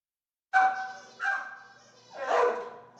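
Beagles at an animal shelter in Onondaga County bark close by, three loud, sharp barks at an uneven pace with short gaps between them and no talk.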